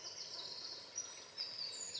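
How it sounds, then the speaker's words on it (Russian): Chaffinches sing in a spring forest, their high, thin phrases carrying at a moderate distance over a quiet woodland background, with no voices heard. "Поют зяблики,"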